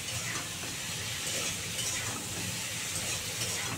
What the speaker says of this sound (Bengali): 2 মিনিট ধরে কষাই